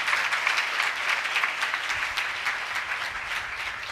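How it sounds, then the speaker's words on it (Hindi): Church congregation applauding loudly during a sermon, a dense, continuous wash of clapping with no voices on top. "ऐसे खुदा के लिए जोरदार तालियां बजाएं।"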